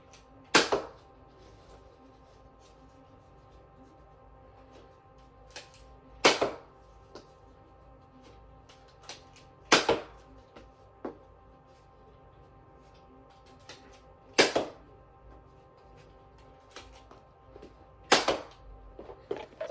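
Hero Combat toy blasters fire Nerf Elite darts in six sharp, separate pops spaced a few seconds apart over a quiet background, each shot a crisp snap followed by a brief rattle.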